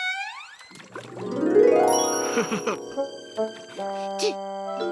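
A cartoon frog in a Garfield episode gives a long, warbling croak that rises and wobbles, followed by several shorter croaking bursts, loud and close.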